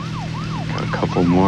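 A wailing emergency siren sweeps up and down repeatedly from a police car in a video game speedrun, loud and close over a steady engine drone, switching to a faster yelp pattern near the end.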